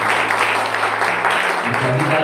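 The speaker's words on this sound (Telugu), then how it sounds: "చప్పట్లు కొడుతూ" An audience claps together at a Christian gathering, a dense, steady patter of many hands, with a few voices faintly mixed in underneath.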